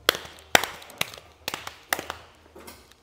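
A person mimics a galloping horse with a loose, uneven series of sharp taps and thuds, roughly two per second, close and fairly loud with short pauses between beats.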